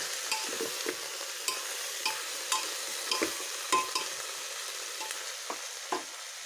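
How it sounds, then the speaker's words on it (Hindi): Jackfruit and potato pieces with red chilli powder fry in a pan with a soft, steady sizzle, punctuated by light, irregular taps and scrapes of a stirring spoon; nobody speaks. "अब इसको फिर मैं 5 से 7 मिनट फ्राई करूँगी।"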